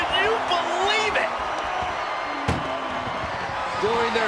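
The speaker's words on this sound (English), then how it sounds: "Powerbomb right into the ambulance" A powerbomb slams a wrestler into an ambulance in the WWE 2K25 video game, landing as one sharp, heavy thud midway, with a commentator talking and crowd noise underneath throughout.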